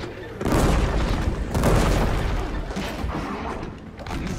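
Explosion in the video game Horizon Forbidden West, a loud booming blast with rumbling debris that swells twice and then trails off, filling the whole stretch with dense low crashing noise.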